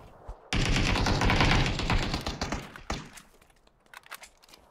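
Gunfire in a squad-based shooter video game: a sudden, loud, sustained automatic burst lasting over two seconds, followed by scattered, quieter shots and thuds.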